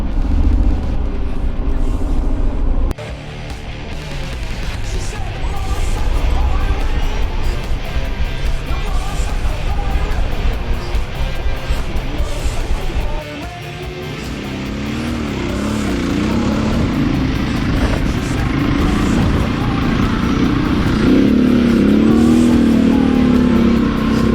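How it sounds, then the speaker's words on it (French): A big trail motorcycle is started in desert sand in Morocco under heavy throttle, its engine roaring loudly and revving hard with a brief dip before climbing again into a strained, sustained drone. "admirer la technique pour faire démarrer un gros trail dans le sable"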